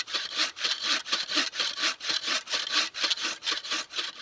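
Hand saw cutting through hard wood at a camp, steady back-and-forth strokes of rasping cuts in a brisk even rhythm, close and fairly loud with no talk.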